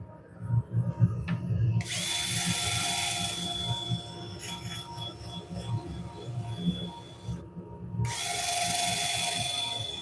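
A wood lathe spinning a wooden bowl during sanding, with a steady high whirring hum and rough friction as sandpaper is pressed against the turning wood, briefly cutting out before resuming.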